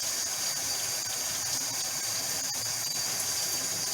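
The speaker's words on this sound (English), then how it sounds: "I'm just going to scrub them under the cold water" Steady rush of cold tap water running while cucumbers are scrubbed with a vegetable brush, a constant hiss with faint scrubbing underneath and no voices.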